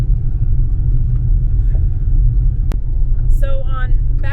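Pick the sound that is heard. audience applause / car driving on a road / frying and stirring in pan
car driving on a road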